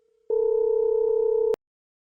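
A single steady telephone tone sounds for about a second and a quarter while calling a 4G relay switch controller, clean and alone, ending with a sharp click.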